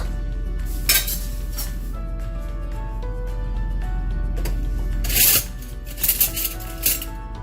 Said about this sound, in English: I'm going to spoon some of that sauce into it.